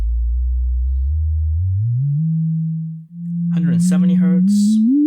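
A VCV Rack LFO swept up above 30 Hz becomes an audible pure sine tone, gliding from a low rumble up to a higher pitch, with brief speech over the end.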